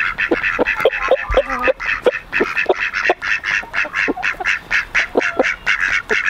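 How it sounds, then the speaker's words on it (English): A group of ducks on a small farm quack loudly and repeatedly in close range, a steady run of nasal calls with occasional low honks in between. "Look, the ducks are even coming over."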